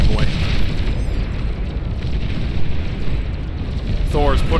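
Juggernaut units blowing up in the strategy game Beyond All Reason, a dense, loud rumble of overlapping booms that rolls on steadily for several seconds, with no pause between blasts.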